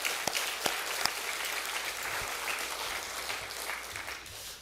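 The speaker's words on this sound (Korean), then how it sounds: "이 시간 그 마음 담아서 우리 단기 선교 떠나는 청년들 향해서 뜨겁게 박수로 함께 응원하셨으면 좋겠습니다" Warm applause from a church congregation at a Sunday service, a dense sustained wash of many hands clapping with a few sharper claps near the start, moderately distant and steady throughout.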